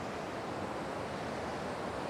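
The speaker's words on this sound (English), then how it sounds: "we are here at the falls. There's a lot of water running off of them right now." Waterfall between the upper and middle Joffre Lakes in full spring runoff, a steady broadband roar of rushing, spraying water, constant and close with no voices.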